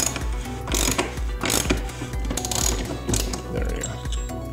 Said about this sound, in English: So we're going to use our 1 1/8 inch socket,